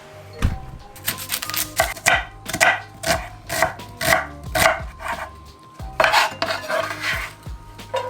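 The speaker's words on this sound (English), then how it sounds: "So first thing I'm gonna do is chop the onion" A knife chops an onion rhythmically on a cutting board, a series of sharp, close thuds at a steady pace with brief pauses between runs.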